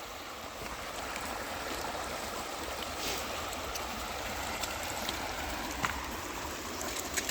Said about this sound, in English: Water's flowing pretty good.